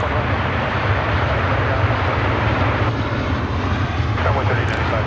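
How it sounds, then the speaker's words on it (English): Qantas Boeing 787 Dreamliner jet taxiing at DFW Airport at night, a steady broad engine roar with low rumble holding level throughout, fairly close, with faint voices beneath. "He shares the information that the Qantas Dreamliner is on the move."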